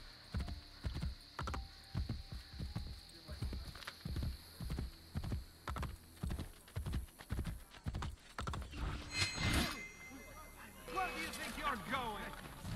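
A horse in Assassin's Creed Brotherhood gallops with a fast, regular run of loud hoofbeats that then breaks into a whinny, while a person talks over it.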